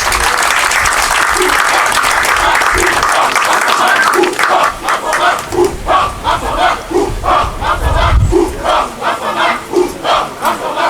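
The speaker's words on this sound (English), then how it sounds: "Shall we please give them a round of applause?" A crowd at a Ghana Armed Forces land combat firepower demonstration cheers loudly for an infantry platoon, then breaks into rhythmic, pulsing clapping and shouts that swell and fall for several seconds.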